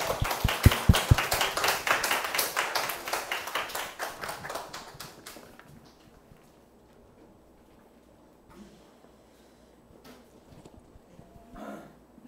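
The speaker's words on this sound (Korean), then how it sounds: "나오시면 우리 큰 박수 부탁드리겠습니다" An audience at a morning business seminar claps in a brisk, rhythmic burst that fades out after about five seconds, leaving a quiet room with faint shuffling and small knocks.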